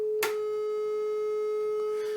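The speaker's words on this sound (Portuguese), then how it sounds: "Agora olha a onda triangular." A sustained synthesized triangle wave tone plays at a single pitch with faint overtones above it, following a brief click at the start and continuing steadily alone.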